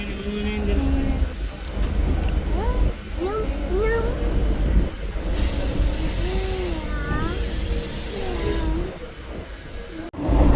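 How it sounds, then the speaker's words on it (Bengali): A train pulls into a station with a steady rumble and rising and falling metallic wheel squeals, while voices and a cat-like meowing come and go over the noise. "স্টেশনে এসে গেছি, এবার ট্রেন আসবে"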